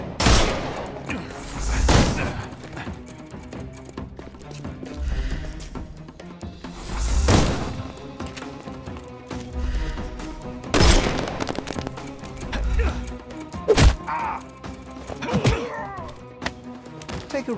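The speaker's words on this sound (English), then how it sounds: "Shoot him, boy." Gunfire in the video game Sherlock Holmes: Chapter One, with several loud, sharp shots or short bursts spaced a few seconds apart over a busy background of ambience, thuds and a little voice.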